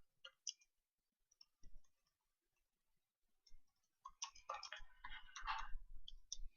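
Keys on a computer keyboard are typed while a header is entered into a Word document. Soft clicks come sparse at first, then a faster, denser burst near the end, quiet and close with no talk.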